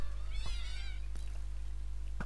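Cats meowing in the Minecraft video game, a drawn-out wavering meow followed by a few short faint chirps, over a steady low hum.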